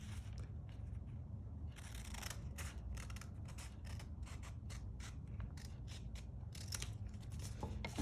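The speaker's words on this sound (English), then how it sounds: "you'll cut this part off with a piece of scissors" Scissors snipping through paper while making a 3D pop-up card, a quick run of crisp, irregular cuts and slicing scrapes over a soft background hiss, close up and fairly quiet.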